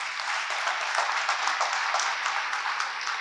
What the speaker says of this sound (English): you can give a huge round of applause.